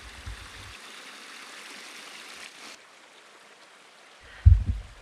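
A creek flows through rural homestead property, a soft steady rush of running water that dips quieter partway through, with low thumping bumps near the start and end.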